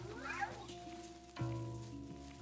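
A cat meows in the Luigi's Mansion video game, a single drawn-out mew near the start over a steady backdrop of game music, with no talking.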